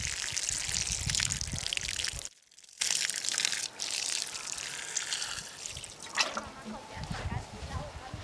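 Water is poured over a foot during Kneipp therapy, giving splashing and trickling sounds that continue intermittently while people talk nearby.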